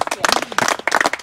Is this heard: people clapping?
yes